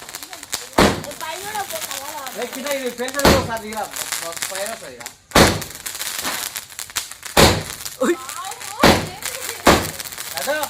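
Several sharp Diwali firecracker bangs burst at irregular intervals, loud and close, with people talking in between.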